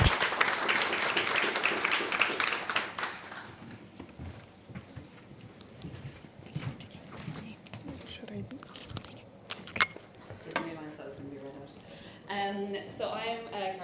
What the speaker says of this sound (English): please give a round of applause for the guest speakers